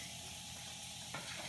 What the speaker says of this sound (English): You should hear a very nice sizzle.